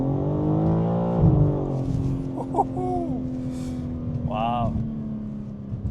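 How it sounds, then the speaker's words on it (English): A BMW M3 G80 launches hard from a standstill using launch control, the engine holding a steady high-revving drone before surging through quick upshifts, heard from inside the car with a brief spoken exclamation. "How to use launch control on a G80 M3."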